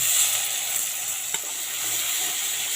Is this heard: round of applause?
no